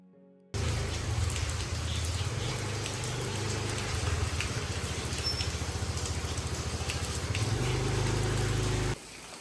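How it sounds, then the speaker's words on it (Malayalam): Heavy rain pours down with a dense, continuous roar and patter that begins abruptly and holds steady and loud before cutting off near the end. "ഗംഭീര മഴ."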